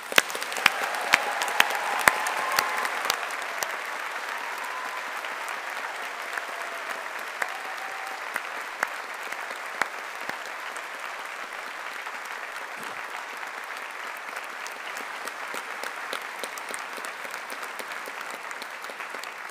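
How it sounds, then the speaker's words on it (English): An audience applauds 2025 graduates of a Faculty of Humanities and Social Sciences at a graduation ceremony, a long steady wash of clapping in a large hall that holds evenly throughout, with a few sharp louder claps near the start. "applause."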